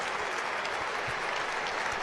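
A cricket stadium crowd applauds a batter reaching a triple century, with dense, sustained clapping from the stands and no voices above it.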